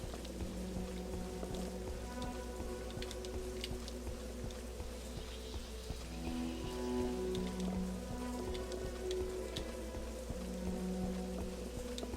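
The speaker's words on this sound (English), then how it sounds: "And here comes the rain again." Rain falls in a video game, a steady soft patter of drops on surfaces throughout, accompanied by faint low tonal game music.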